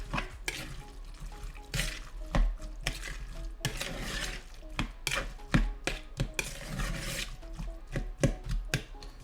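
Guacamole gets mixed in a bowl, with a spoon or fork scraping and squishing through the mash in irregular strokes, soft thuds and taps marking each pass, close up and without voices.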